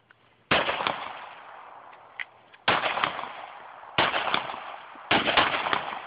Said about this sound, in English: This one doesn't kick as much, Tom.